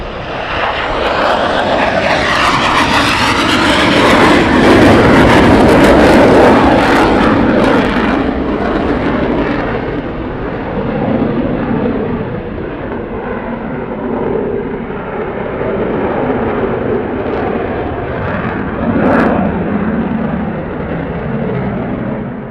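A military jet roars loudly as it comes in to land at RAF Lakenheath, a powerful, close engine rumble that builds and then slowly fades as it passes.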